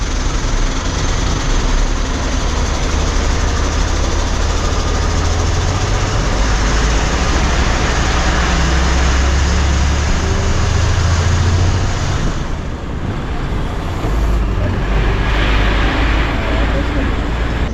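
An Ashok Leyland bus engine drones steadily in heavy traffic near Shastri bridge on a night trip from Konkan to Mumbai, a continuous loud low rumble with road noise throughout.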